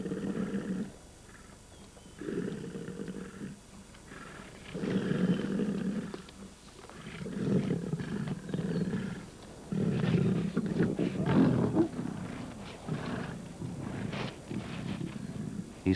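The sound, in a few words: male lion fighting off a lioness over a kill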